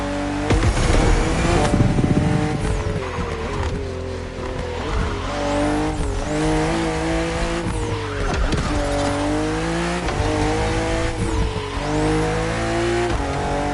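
A BMW 3.0 CSL drives fast with its engine revving hard through repeated gear changes, its pitch climbing and dropping, and its tires squealing, loud and close.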